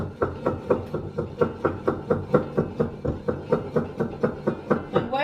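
Soaked beans being pounded in a mortar for akara: steady, evenly spaced heavy thuds, roughly four per second, close and loud and continuing without pause.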